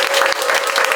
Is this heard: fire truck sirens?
no